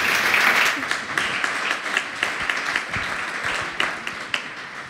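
A live audience at a science slam event claps for the presenters, sustained applause with some sharper individual claps standing out, fading slightly toward the end.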